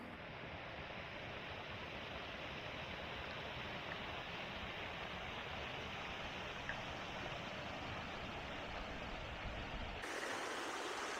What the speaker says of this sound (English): Seen a few of these man-made waterfalls.